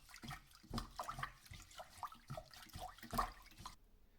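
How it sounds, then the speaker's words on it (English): Rice being washed by hand in a saucepan of water, soaked and squeezed, giving a series of soft splashes and sloshing swishes at close range. "by soaking it in water and squeezing it with your hand"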